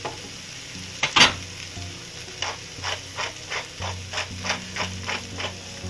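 Corned beef hash sizzles and scrapes in a frying pan while salt and pepper season it, a steady crackle broken by a sharp clatter near the start and regular stirring scrapes, with no speech.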